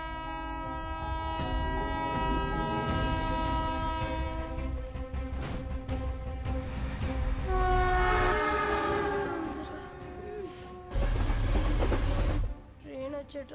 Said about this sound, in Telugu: ట్రైన్ వచ్చేటప్పుడు కళ్ళు కాదురా చెవులు మూసుకోవాలి